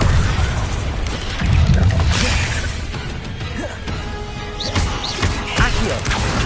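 Bombarda blasting spell explosions from the video game Hogwarts Legacy: loud, close booming crashes with a heavy burst near the start and further impacts and pops scattered through a busy, dense mix.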